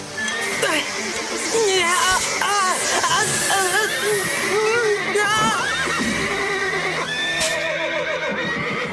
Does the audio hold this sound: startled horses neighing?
yes